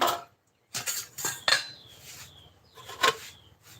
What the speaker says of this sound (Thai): เราต้องปิดฝาหม้อนะคะ